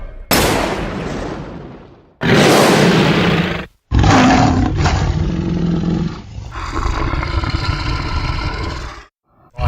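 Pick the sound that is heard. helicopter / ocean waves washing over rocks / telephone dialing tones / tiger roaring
tiger roaring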